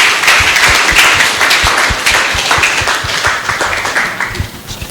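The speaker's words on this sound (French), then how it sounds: "Acclamons très fort ce peuple de Dieu." A church congregation bursts into loud, dense applause. Many hands clap fast and close for several seconds, and the applause thins slightly toward the end.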